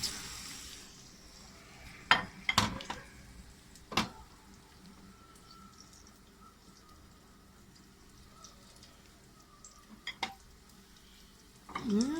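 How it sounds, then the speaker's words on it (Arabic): Garlic and onion seasoned with salt and pepper are stirred in a pot, with a few sharp spoon scrapes and clanks against the metal and a faint soft sizzle between them. "هنشوح بس الحاجات دي كلها كده مع بعض"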